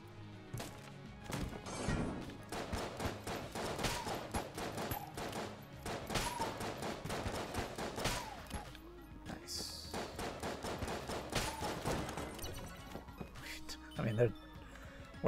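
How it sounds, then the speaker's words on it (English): Repeated gunfire from a shotgun in the video game Enter the Gungeon, with bursts of shots and impacts layered over game music, while people talk over it. "We shot the shotgun a few times"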